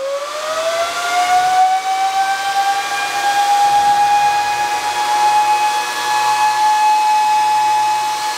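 A home Bitcoin miner with 140 mm fans spins up, its loud steady whooshing roar rising in pitch into a sustained whine with no talk over it.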